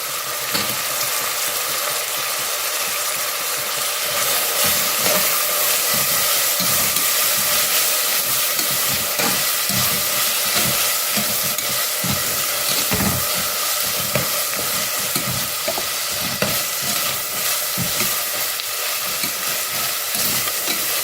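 Ginger garlic paste with curry leaves, mint and green chillies stirred and frying in a pan for a chickpea rice dish: a steady, dense sizzle with frequent spoon scrapes running throughout, alone with no talk.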